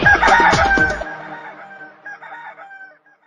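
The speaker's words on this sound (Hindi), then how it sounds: "कुकड़ू कू, मुर्गा बोले" A rooster crows cock-a-doodle-doo loudly and up close for about a second, and its harmonic tail trails off over a quieter tuneful backing from a children's song.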